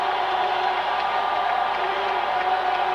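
A dense, steady roar from a stadium crowd at a 1989 Falcons vs. Saints NFL football game, loud and continuous without pause.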